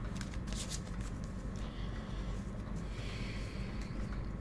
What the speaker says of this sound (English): I'm just shuffling cards in front of the camera.